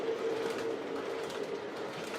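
A passenger train with a Great Northern EMD E4 locomotive and dome cars rushes past with a steady, loud roar and rumble, a faint tonal whine running through it, no voices.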